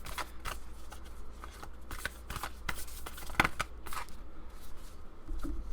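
Tarot cards are shuffled in close, quiet bursts of crisp riffling and flicking, several quick runs of papery slaps with short pauses between them.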